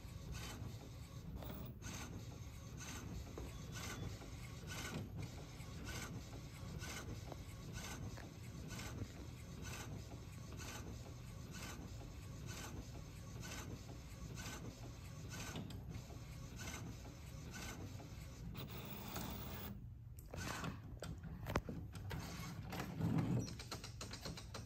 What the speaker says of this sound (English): now it's gonna tell us it's printing and it's gonna tell us at what percent.